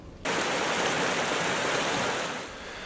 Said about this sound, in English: On its south side, bubbling springs feed the headwaters of the Sacramento River.